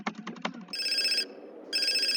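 A phone ringing in GTA San Andreas, with bursts of bright electronic trilling ringtone separated by a short gap, preceded by a few quick clicks, fairly close and clear with no talking.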